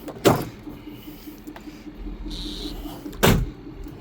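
The fiberglass tonneau cover on a 2015 Ford F-450 Lariat is folded back toward the cab, giving two sharp, loud thumps about three seconds apart, with a faint mechanical whir and rustle in between.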